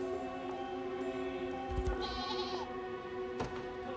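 Goats bleat in the video game Unicorn Overlord, with a few wavering, nasal calls rising over a steady harmonic game drone and soft ambient effects, close and clear with no talking.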